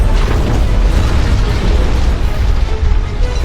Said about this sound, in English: But that didn't stop us from blowing up a scale model of Nakatomi Tower for your enjoyment.